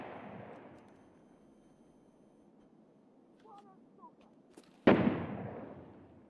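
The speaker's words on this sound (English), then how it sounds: "That's him shooting." Gunfire from a tactical shooter video game in the Escape from Tarkov style, heard as a faint distant burst and then one sharp, loud close shot that rings out and decays.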